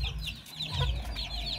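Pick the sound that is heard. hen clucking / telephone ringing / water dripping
hen clucking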